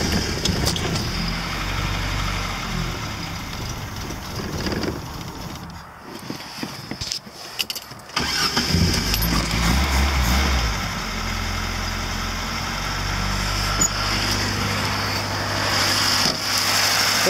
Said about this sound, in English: it sounds like a Lada motor